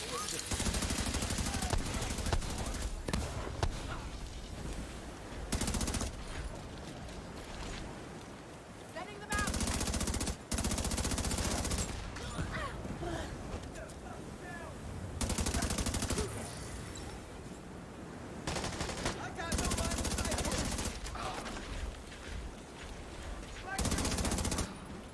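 Sustained gunfire in the Division 2 shooter game: dense, loud bursts of automatic fire keep coming for about twenty-five seconds with only brief gaps, and a voice talks at times beneath it.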